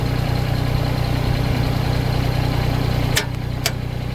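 Kubota BX23D compact tractor engine idling with a steady, close diesel rumble while the backhoe pivots forward, followed by a pair of sharp metallic clanks near the end.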